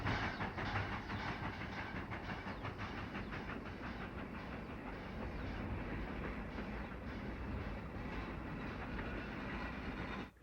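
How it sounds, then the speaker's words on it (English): A westbound freight train rolls through Emigrant Gap, its steady rumble and clattering wheels holding loud and close for the whole stretch with no pause. "A westbound freight passes through Emigrant Gap."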